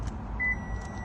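A 2016 Toyota RAV4 with push-button start gives a single short electronic beep midway through keyless key programming, heard over a low, steady cabin rumble.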